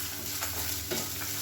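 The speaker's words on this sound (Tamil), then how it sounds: "இப்போ இதில் ஒரு 3 டேபிள் ஸ்பூன் துருவன தேங்காய் சேர்த்துட்டு 2 பரட்டிட்டு அமர்த்திடலாம்." Grated coconut roasting in a pan is stirred, giving soft, steady scraping close by with a faint sizzle underneath. No voices.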